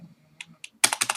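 Several crisp keystrokes on a computer keyboard while entering a router configuration command, the clicks bunched in a quick rapid burst near the end after a few quieter taps, close and alone with no talking.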